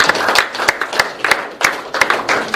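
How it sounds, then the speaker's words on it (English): Applause from an audience at an awards night for the Blues team, a steady patter of many hands with periodic sharper claps standing out through the short stretch. "Round of applause for the Blues."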